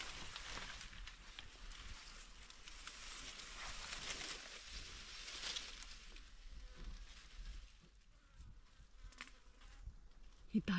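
A fly buzzing around a restaurant table, its thin droning whine rising and fading as it moves close and away, with soft murmured voices and faint room noise underneath.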